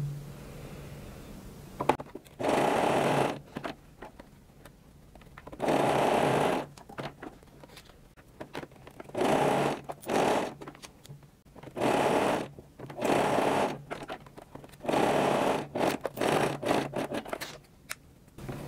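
A sewing machine stitches fabric for a high-waisted panty with a waistband. It runs in short, steady bursts of a few seconds each, separated by quiet pauses, close and alone with no talking.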